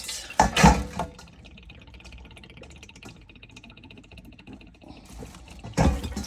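Water dripping from a Watts Premier Filter-Pure UF3 water filtration system cartridge during replacement, faint small drips and trickles between louder splashy bursts near the start and end, in a quiet indoor space.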